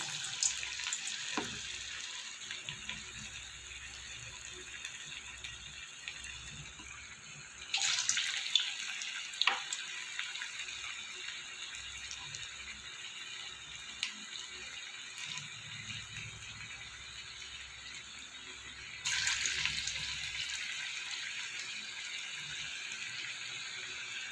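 Bottle gourd fritters frying in hot oil, a steady hiss of bubbling oil with louder surges of sizzling as fresh batter goes in, continuous throughout with no talking.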